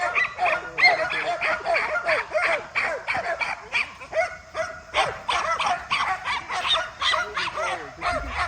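A bird dog in a hunting field barks and yips excitedly in a rapid, repeated series of close, loud barks with some whimpering mixed in.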